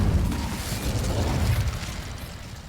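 An Incendio fire spell is cast in the video game Hogwarts Legacy: a loud, rushing burst of flame with a low rumbling whoosh that swells and then fades over a couple of seconds.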